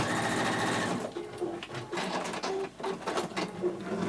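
Sewing machine stitching a seam on a cosmetic bag: a steady, close mechanical whirr that runs throughout, rising and dipping slightly in speed as the fabric is fed.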